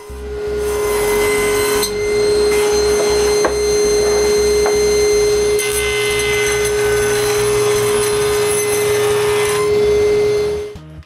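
A table saw runs with a steady high whine while the blade cuts through wood in several passes, the motor droning continuously.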